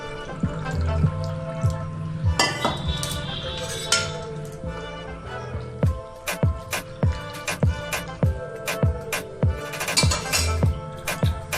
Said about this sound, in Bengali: আর একটু ঠান্ডা জল দিয়ে আমি ধুয়ে নিচ্ছি।